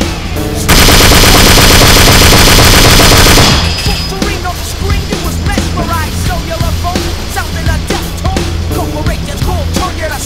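Machine gun fire in a war video game rattles out in a loud, dense continuous burst, then breaks into scattered shots and impacts within busy battle noise.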